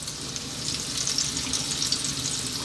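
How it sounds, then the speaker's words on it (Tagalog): Fish fries in hot oil in a home kitchen, a steady close crackling sizzle that continues throughout with no voices. "Pipirituhin na po natin."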